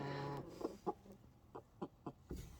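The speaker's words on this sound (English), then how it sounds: "Hello, chickens." Chickens cluck close by in short, scattered bursts, about half a dozen soft calls spread over a couple of seconds, with no talking.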